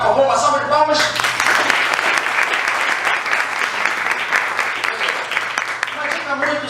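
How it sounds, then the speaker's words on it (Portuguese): A studio audience at a public-speaking talk breaks into loud, sustained applause as a volunteer is called to the stage, following a brief spoken phrase. "uma salva de palmas"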